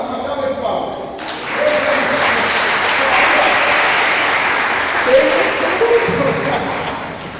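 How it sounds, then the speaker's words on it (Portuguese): Congregation at a Catholic preaching event on Christian leadership training bursts into loud, sustained applause after a brief stretch of speech, the clapping holding strong throughout. "uma salva de palmas"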